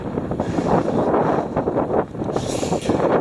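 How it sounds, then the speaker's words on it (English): Strong, gusty wind on Mam Tor buffets the microphone in a continuous rumbling roar, swelling and easing over a few seconds with no voices. "I'm hoping you can hear me because it's quite windy."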